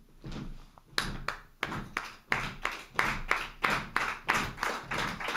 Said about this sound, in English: it's just clapping double time